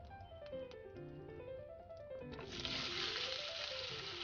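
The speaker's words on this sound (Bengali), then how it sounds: "হালকা করে ভেজে যখন লালচে হয়ে যাবে তখন এতে দেব সেদ্ধ আলুর টুকরোগুলো।" Boiled potato pieces hit hot oil with lightly browned cumin seeds, setting off a bright, steady sizzle that swells louder partway through, with soft music playing underneath.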